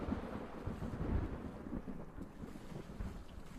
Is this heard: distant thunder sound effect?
yes